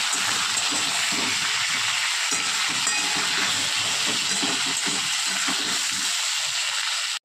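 Rohu fish pieces frying in hot oil with salt, giving a steady, loud sizzling hiss that runs without a break the whole time, with soft crackles and spatters underneath.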